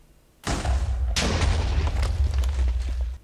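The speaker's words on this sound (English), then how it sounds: "Here's the next explosion." Two loud TNT blasts in Minecraft follow each other about a second apart, each a sharp boom that rolls into a long rumbling crackle of debris before cutting off.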